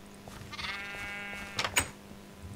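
Sheep bleat in Minecraft, one wavering, drawn-out bleat followed by a couple of short calls, close and clear over a faint steady hum.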